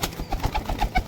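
Punjabi Malbai pigeons coo close by in soft, repeated throaty pulses, several overlapping calls in quick rhythm with no talking.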